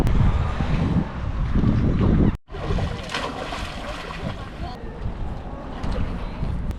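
Wind gusts hard across a microphone at a beach, a loud continuous rumble that drops out briefly, then carries on steadily with faint surf-like hiss.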